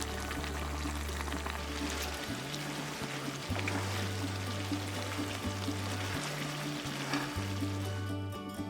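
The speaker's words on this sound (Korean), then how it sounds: "계란을 넣고 국물을 끼얹어 주면서 약불에서 15분 졸여냈다" Braised LA galbi simmers on low heat with eggs added while broth is spooned over it, a soft, steady bubbling and light sizzle close by, with faint liquid pouring and low background hum.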